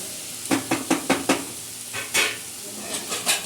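A spoon stirs okra sabzi frying in a pan, giving a run of quick close scrapes and clinks over a steady sizzle, then a few louder sweeps.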